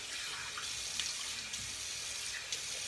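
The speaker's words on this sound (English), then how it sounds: "I go ahead and rinse my face and I'll be right back." Steady stream of water running from a bathroom tap into a sink while a face is rinsed after shaving, constant hiss with faint splashes, close and alone.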